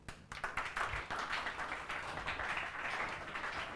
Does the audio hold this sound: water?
no